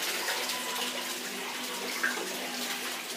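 Water gushes steadily during a water filter backwash, a continuous rushing, splashing flow heard close and alone throughout.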